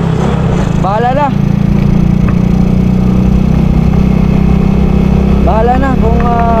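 Motorcycle engine idles steadily and loudly close by, with a low rumbling throb running throughout while brief vocal sounds rise over it twice.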